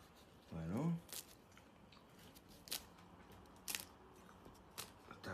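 Someone bites into hot, crunchy homemade pizza crust. A brief voiced sound comes first, then a few sharp, close crunches spaced out over quiet.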